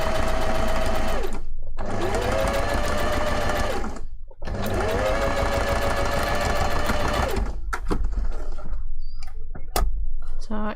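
A sewing machine stitches appliqué paw pads onto fursuit hand paws in two steady whirring runs of a few seconds each, separated by short pauses. Softer clicks and handling noises follow.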